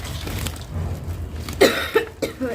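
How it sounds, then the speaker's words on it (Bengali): A person with a bad cold coughs in a few rough, close bursts, spaced irregularly, with no talking in between. "এতটা কাশি হয়েছে"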